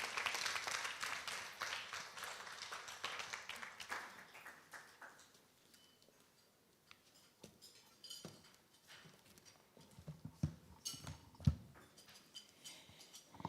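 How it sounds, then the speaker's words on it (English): Applause at a workplace nutrition summit starts fairly full, then thins and fades within a few seconds, leaving a quiet room with scattered knocks, shuffles and small clinks. "Ladies and gentlemen, let's clap for Lutgard as she comes to speak to us."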